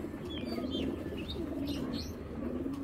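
Domestic pigeons, including an old-breed female in moult, coo softly in low, rolling phrases over and over, with a few thin chirps above, faint and nearby.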